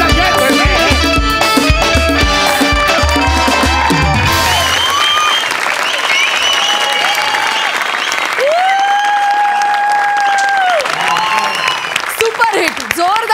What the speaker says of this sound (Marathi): सुपरहिट, जोरदार टाळ्या.